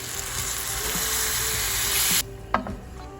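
Water from a tea kettle hits hot risotto in a pan with a loud, close sizzling hiss that cuts off abruptly after about two seconds, followed by a soft clink and quieter bubbling.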